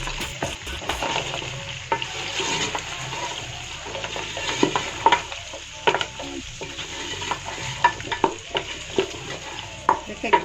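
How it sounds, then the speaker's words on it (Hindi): Cumin seeds and ginger frying in a pan, a steady close sizzle with frequent spoon clinks and scrapes as the mix is stirred, lively throughout without talk. "ये सफ़ेद ज़ीरा और ये थोड़ी सी अदरक ये मैं डालूँगी। इसको थोड़ा सा मैं भूनूँगी।"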